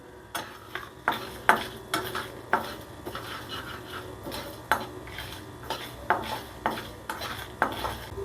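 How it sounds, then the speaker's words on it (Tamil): Black pepper and dried red chilies dry-roasting in a kadai, with a spoon repeatedly clinking and scraping against the metal in an uneven rhythm over a faint, continuous crackle. "கொஞ்சம் வறுபட்டோன்னே கொஞ்சம் மிளகாய் போட்டு வறுத்துக்கலாம்"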